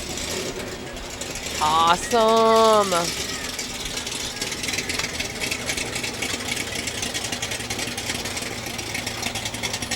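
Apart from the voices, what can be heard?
Camaro engine idling in a parade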